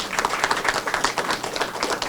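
Applause from an audience at a city council announcement of a special committee on gun violence prevention, steady dense clapping throughout at moderate loudness.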